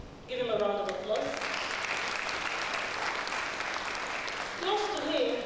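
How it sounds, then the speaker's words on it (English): Audience giving a sustained round of applause for a speaker at a School of Media and Communication event, dense clapping filling the hall between brief stretches of a voice at the start and end. "Please give him a round of applause."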